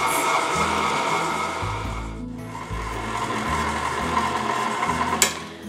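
A stand mixer churns a crumbly salted nut bar crust on low speed, a steady motor whir with rubbing, grinding texture from the dry mixture, close and continuous with no talking.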